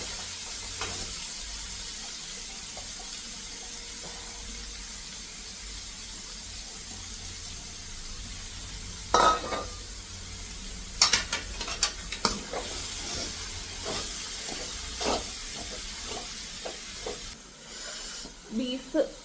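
Chopped onion frying in a pan, a faint low sizzle that gives way to sharp scraping and clattering spoon strokes against the pan in irregular bursts, with some soft background noise.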